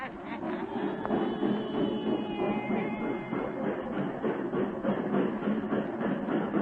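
A train rumbles steadily at a small railway depot in the desert, a continuous low roar with faint clanking, used as a radio drama effect and heard without voices.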